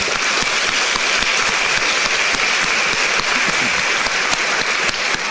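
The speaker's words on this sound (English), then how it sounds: "So give yourself a round of applause" Audience at a business association annual gala applauds steadily and loudly, a dense wash of clapping that holds throughout with no pauses.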